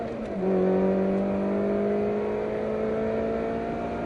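Ferrari track car on the Silverstone circuit running flat out down the straight, engine note climbing steadily in a loud, sustained drone close to the microphone, with no voices.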